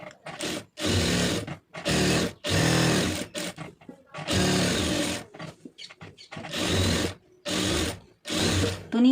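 Sewing machine stitching the lining of a blouse, running in repeated bursts of fast mechanical rattling separated by short pauses, close and loud.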